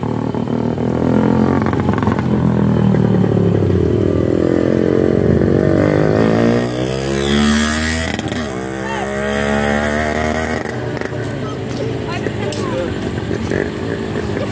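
A motorcycle engine runs steadily close by during riding practice, its pitch rising and falling with throttle changes, including a rev sweep near the middle; people talk over it throughout.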